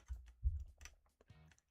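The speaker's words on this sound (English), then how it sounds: "I turned it down a bit. So you hear less keyboard" Loud, clattery keystrokes on an old-school computer keyboard, a quick irregular burst of clacks followed by a brief rapid run of keys, close by with no talking.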